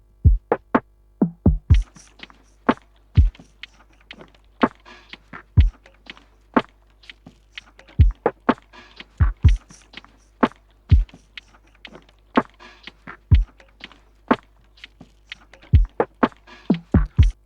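Lofi drum samples, including a kick named Harmonious Kick, played together in a relaxed, sparse beat of deep thumping kicks and soft snappy hits, clean and unhurried.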